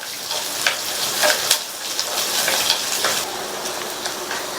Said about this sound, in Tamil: இந்த பூண்டு வெங்காயம் ரெண்டுமே நல்லா வதங்கணும்.